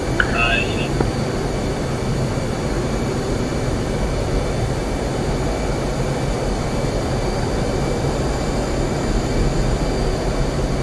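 A jet engine goes to full afterburner in the DCS flight simulator during a 1996 Taiwan Strait Crisis carrier mission, holding a constant loud roar throughout, with faint voice chatter underneath.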